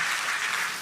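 Church congregation clapping for a small child, a brief, even patter of many hands at moderate loudness.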